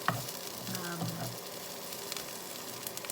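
Cauliflower rice fries in a pan with a steady, close sizzle and crackle, interrupted by a few scraping stirs near the start.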